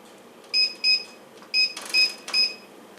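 Kitchen oven timer beeping in a home kitchen while turkey tots bake: five short, bright electronic beeps in an irregular run over about three seconds, close and clear against quiet room tone.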